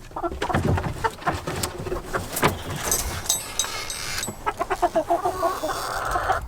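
Four chickens in a backyard coop cluck and murmur close by, with irregular bursts of clucks and a short run of rapid calls toward the end, and no voices.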